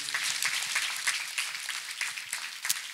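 Applause from a church congregation honoring Master Jesus during a testimony service, a dense patter of many hands clapping at moderate volume with a few sharper claps standing out, no voices over it.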